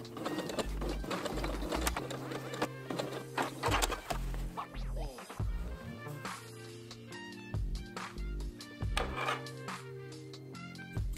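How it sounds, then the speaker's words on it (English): A sewing machine stitches the hem of a scallop-trimmed bubble frock dress, whirring in rapid rhythmic bursts with short pauses between runs. The sound is close and moderately loud, with no voices. "And then I just sew it to finish it off."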